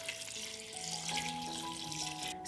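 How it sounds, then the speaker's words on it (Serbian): A cooking pot holding washed white beans filled with water from a tap, a steady quiet rush of running water with a rising filling tone, close by and without talk. "Napunit ću šerpu sa vodom."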